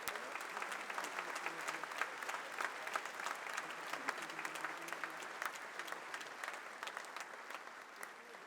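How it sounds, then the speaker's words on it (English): Sustained applause from a large audience at the 2013 APEC CEO Summit, dense steady clapping that holds at an even level throughout with no pauses. "Let us show our appreciation once again by extending another round of applause to President Susilo Bambang Yudhoyono."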